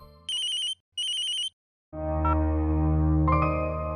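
A phone rings in a domestic TV-serial scene with two short repeated ringtone bursts separated by a gap, followed by a sustained, fuller and louder musical ringtone melody.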